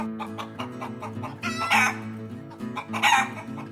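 Laying hens and roosters on a small egg farm in São Tomé and Príncipe, with steady overlapping clucks and at least two loud rooster crows rising above a busy background of poultry chatter.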